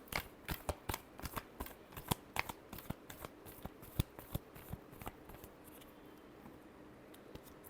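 Tarot cards being shuffled by hand close up, a quick run of crisp riffling snaps and flutters in an irregular rhythm that thins out toward the end, quiet with no voices.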